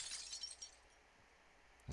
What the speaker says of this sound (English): A sound like shattering glass echoes faintly in the air.